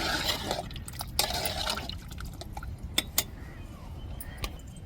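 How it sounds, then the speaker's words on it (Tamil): Water poured into a pan of egg curry: a rushing splash for the first two seconds, then scattered drips and small clinks that fade to quiet. "தேவையான அளவு தண்ணி சேர்த்துக்கிடுவோம்."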